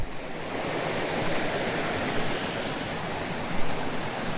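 A small waterfall on a creek gives a steady, broad rushing splash that stays close and loud the whole time, with no voices over it.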